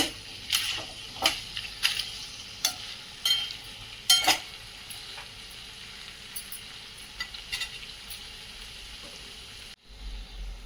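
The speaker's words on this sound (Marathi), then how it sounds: "काजू आणि बेदाणे टाकून घेऊयात मीडियम गॅसवर आपल्याला दोन ते तीन मिनिट हे परतून घ्यायचं आहे" Cashews and raisins sauté in a pan over a medium gas flame for a veg pulav. A steady, quiet sizzle runs under repeated sharp spoon scrapes and taps against the pan, with no one talking.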